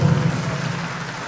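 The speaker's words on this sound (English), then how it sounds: "A round of applause for him." Applause from an audience honoring a dean of a basic medical sciences school at an academic event, a steady dense patter of clapping lasting just over a second.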